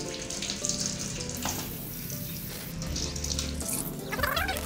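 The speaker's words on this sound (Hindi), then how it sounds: "अब हम ऑरेंज को वॉश करेंगे।" Oranges being washed one by one under a running kitchen tap: steady splashing water with shifting tones as the fruit moves through the stream, moderately loud and continuous, no talking.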